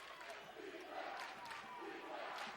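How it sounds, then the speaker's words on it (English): A college basketball crowd at an NCAA Elite Eight men's game chants "defense" in a steady, rhythmic roar, heard from a distance as a dense, sustained wash of many voices. "The chant of defense rising from the crowd"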